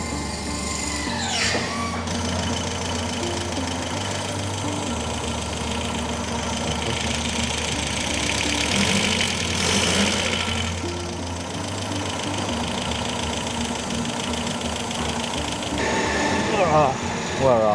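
A rare, freshly restored Audi car engine idles steadily with a low, constant rumble and slight knocking, while a person talks intermittently over it.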